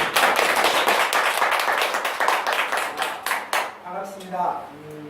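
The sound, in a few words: audience applause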